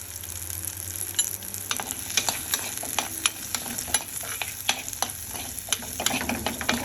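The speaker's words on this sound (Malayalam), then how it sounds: "അപ്പം നമുക്കിതിലേക്ക് മുറിച്ച് വെച്ച ചെറിയുള്ളി നമുക്കിതിലേക്ക് ചേർക്കാം." Halved shallots sauté in hot oil in a pan for a fish head curry, a steady close sizzle broken by frequent clicks and scrapes of a spoon stirring, with no talking.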